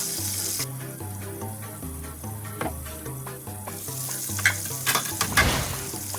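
Sweetfish frying in a covered pan, a close steady sizzle and bubbling with clinks from the lid and utensils, growing louder and more spattery toward the end, no voices.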